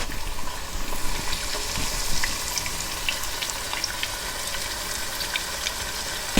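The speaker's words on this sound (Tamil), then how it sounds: "இதை நல்லா டீப் ஃப்ரை பண்ணி நம்ம எடுக்கணும்." Chicken drumsticks deep frying in hot oil for a drumstick curry, making a continuous bubbling, hissing sizzle with crackling pops, close and moderately loud, with no talking.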